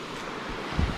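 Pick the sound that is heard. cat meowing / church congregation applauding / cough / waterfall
waterfall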